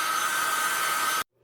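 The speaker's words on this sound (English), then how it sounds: "I'm going to hit this with the hair dryer, try to dry it up" A hair dryer blows a steady, loud whine while drying fabric paint on jeans, then cuts off abruptly, leaving near silence.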